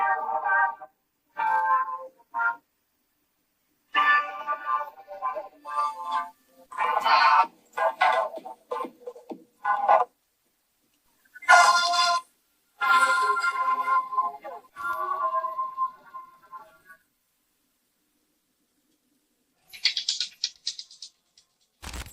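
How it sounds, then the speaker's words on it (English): An OUKITEL WP210 phone's main speaker plays test audio in bursts separated by silent gaps, thin and bright with no low end, clear and close. "We'll leave a test here so you can hear the main speaker of this OUKITEL"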